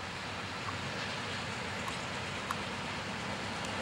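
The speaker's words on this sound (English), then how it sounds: "This is, looks like a Herzog train." A Norfolk Southern Herzog ribbon rail train rolling past on track, a steady loud rumble and roar of wheels with faint metallic squeals over the top, constant throughout.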